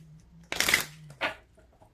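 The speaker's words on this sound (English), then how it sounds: "I'm gonna shuffle for the outer square now." Two short riffles of tarot cards being shuffled, close and fairly quiet, in a quiet room.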